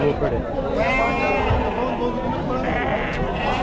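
Sheep and goats bleat in repeated wavering calls at a busy livestock market in Chakan, Maharashtra, with loud crowd chatter and voices running underneath throughout.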